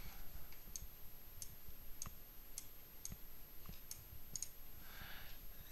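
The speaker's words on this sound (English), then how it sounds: "And I click off." Sparse mouse clicks from a computer in a quiet room, roughly a dozen light taps spaced irregularly over several seconds, faint and close with no talking.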